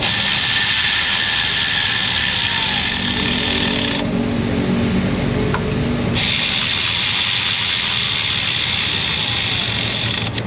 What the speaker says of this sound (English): got the torque wrenches